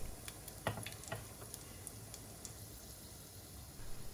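Cumin seeds and black peppercorns frying in hot oil, giving a steady low sizzle with scattered small pops and ticks throughout, alone with no talk.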